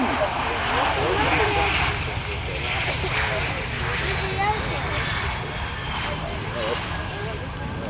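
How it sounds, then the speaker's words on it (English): A US Navy legacy-flight aircraft landing at the 2007 Dayton airshow, a loud, steady engine roar that stays close and continuous throughout, with faint voices of a commentator or crowd underneath. "Watch the flex of the landing gear on landing."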